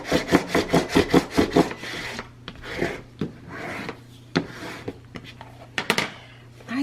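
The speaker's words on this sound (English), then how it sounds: "I'm gonna burnish this down really quick." Coffee-stained paper is burnished onto a scrapbook album cover, giving close repeated rubbing strokes in a fast rhythmic burst, followed by scattered scrapes and taps.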